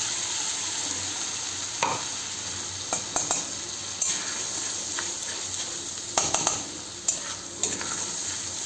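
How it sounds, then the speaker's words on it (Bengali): Ground spice paste fries in oil in a pan, giving a steady close sizzle with scattered stirring scrapes and clinks throughout. "এইটা মশলাটা ততক্ষণ ভাজতে হবে যতক্ষণ না পর্যন্ত এটা তেল ছাড়ে"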